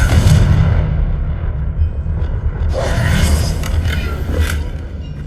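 A Confringo blasting spell fired in Hogwarts Legacy bursts into a loud, rumbling explosion that booms up close and rolls on for several seconds with crackling debris, alone and without talk.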